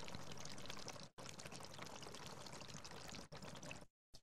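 Air blown through a hose into a container of water, bubbling up around a floating egg: a steady, close, continuous gurgling rush with two brief gaps, then stopping near the end.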